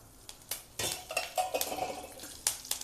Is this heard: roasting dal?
yes